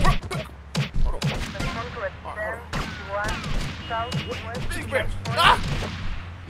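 Gunfire in the video game GTA Vice City, sharp thumping shots in bursts under excited talk and shouting.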